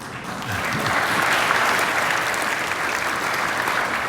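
An audience applauds at a Basketball Hall of Fame enshrinement speech, with loud, sustained clapping from a large crowd that swells quickly and holds steady throughout.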